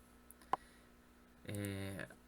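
A single sharp computer mouse click, brief and fairly clear, lands in a quiet room before a person begins speaking.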